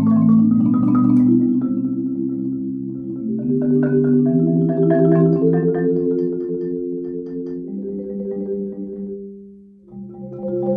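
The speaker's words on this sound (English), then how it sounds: "It also allows me to do what's called a ripple roll, where I play each note at a different time." Mallet percussion played with four mallets in ripple rolls, each chord's notes struck in quick staggered succession, sounding as a sustained shimmering series of chords that shifts pitch, clear and close, with a brief pause near the end.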